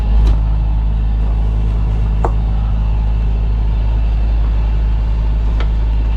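A sailboat's steady low engine drone runs throughout, with faint clicks and knocks on top; no talking.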